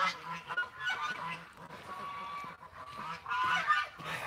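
A duck with a bad foot gives loud, repeated honking calls in short bursts, close by.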